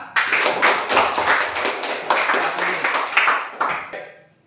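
A classroom of students clapping hands together at a teacher's request, a dense burst of sharp claps lasting several seconds, loud and near, tapering off at the end.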